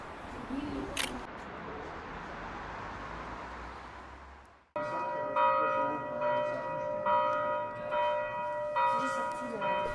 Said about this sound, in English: I hear church bells ringing as I walk down the street and follow the sound to St. Michael's Church.